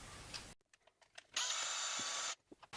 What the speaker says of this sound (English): and then I'm going to drill through